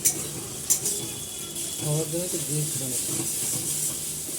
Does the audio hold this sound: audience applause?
no